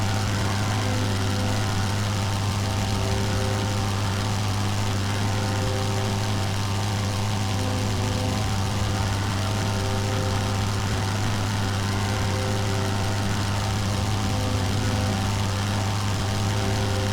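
WWI aircraft engine in the game Wings Over Flanders drones at a steady pitch for the whole stretch, loud and continuous with a constant propeller hum and no speech.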